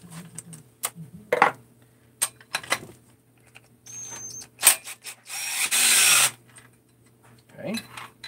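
A power tool works loose the cylinder head bolts on a 394 engine, giving short bursts and one longer whirring run, with clanks and handling noises between them.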